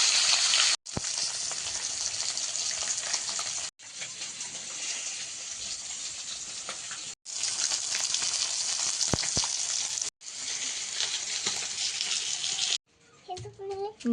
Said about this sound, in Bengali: এরপরে কাঁটাগুলো ভেজে নিই